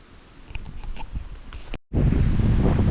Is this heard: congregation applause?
no